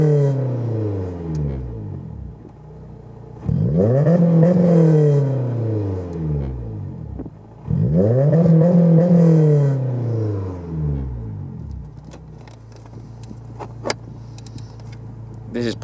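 A Honda S2000 AP1 engine revs up twice against a Bee R type H2 two-step rev limiter, each rev rising sharply and holding with a stuttering bounce before dropping back to a rumbling idle. Faint voices come and go in between.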